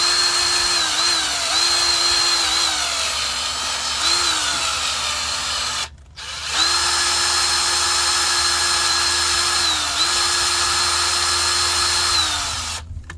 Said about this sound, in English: So what you wanna do is drill on the slow side.